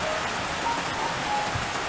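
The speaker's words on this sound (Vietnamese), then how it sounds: "Số là nay trời Đà Lạt mưa quá" Steady rain falls in Da Lat, a dense even hiss of drops on surfaces that holds without pause throughout.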